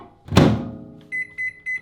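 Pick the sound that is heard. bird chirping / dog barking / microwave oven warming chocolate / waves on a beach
microwave oven warming chocolate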